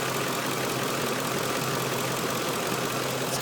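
2005 Ford F150 with a 5.4 liter engine idling steadily, a smooth, quiet, even hum heard close up with no voices.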